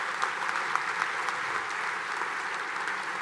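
Diners at an evening alumni salute dinner give sustained applause for the staff who prepared and served their meal, a steady wash of many hands clapping at moderate loudness throughout.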